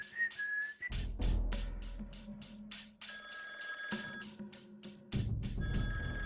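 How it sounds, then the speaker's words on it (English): A telephone ringing with electronic ringtone tones that repeat over several seconds, loud and alone, with no talking. ""Don't answer, don't answer that phone,"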